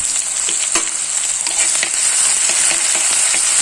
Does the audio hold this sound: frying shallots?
yes